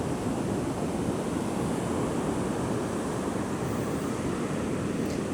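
Strong, steady wind on a sandy beach buffeting the microphone, a dense continuous roar with ocean surf blended underneath and no voices.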